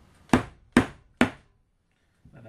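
A chisel chopping a mortise into wood for gaming table legs: three sharp, evenly spaced mallet blows close by, then a short pause and the start of a fourth strike.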